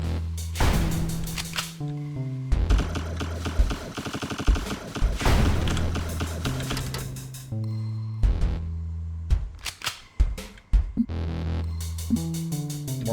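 Rapid gunfire bursts and rocket blasts from the MF-01 Aerostrike shoot-'em-up video game, loud clattering volleys broken by short pauses and sharp single booms, with bright electronic tones between.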